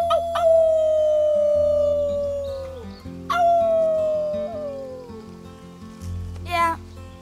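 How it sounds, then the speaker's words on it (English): Characters in Life is Strange 2 join in a team howl, rising wolf-like cries that slide downward, repeated three times with sustained tones and voices layered together, fairly loud and close. "Let's start with our team howl."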